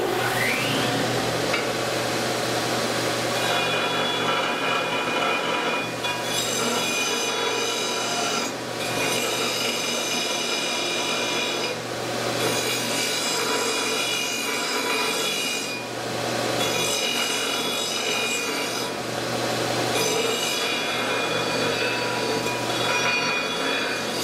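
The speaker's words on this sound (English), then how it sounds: "if you want to bevel some metal, say this tube right here, this square tube, to prep it for welding, look how fast and efficient this machine does it" Delta 4x48 belt sander beveling square metal tube to prep it for welding, a loud continuous grinding rasp with repeated strokes as the tube is pressed against the belt, no talking.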